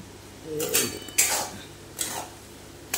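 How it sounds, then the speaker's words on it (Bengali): Marinated chicken pieces go into a cooking pot for a yogurt chicken stew, giving a few clattering clanks of metal pot and utensils spaced through a quiet kitchen, with no talk. "বন্ধুরা, এই যে ম্যারিনেট করা চিকেনগুলো দিয়ে দিচ্ছি।"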